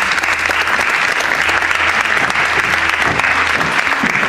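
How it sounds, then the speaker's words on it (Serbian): A television studio audience bursts into loud, dense applause, many hands clapping together in a continuous roar that holds steady throughout. "Izvolite, veliki aplauz za vas."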